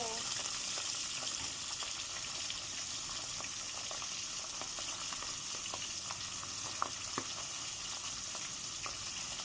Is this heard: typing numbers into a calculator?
no